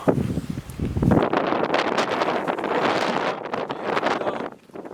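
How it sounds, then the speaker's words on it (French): Strong wind buffets the microphone outdoors in Matala, Crete, a loud, broadband roar that gusts and swells throughout before easing near the end, with no voices. "Il y a trop de vent."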